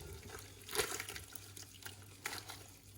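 Hot spinach soup is poured into a blender with soft splashing and gurgling, quiet and close, in a couple of brief surges.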